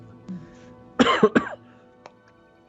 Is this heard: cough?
yes